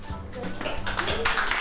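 Applause for singers at a televised gala concert, with bright clapping building beneath an announcer's voice and growing fuller and louder toward the end.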